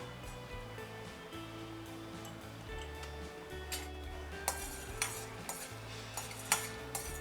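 Cardamom, cloves and black pepper roast in a spoonful of oil while a spoon stirs them in a pan, giving light metallic scrapes and several sharper clinks over a steady low background hum.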